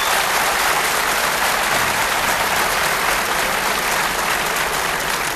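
A large university audience applauds the rector with dense, loud, continuous clapping that holds steady at full strength throughout.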